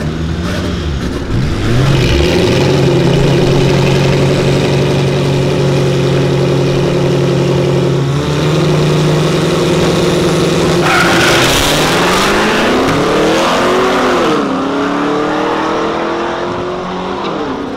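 A Chevrolet Camaro V8 on 22-inch wheels idles loudly and close by, with a deep, steady rumble broken by several sharp throttle blips and rising revs.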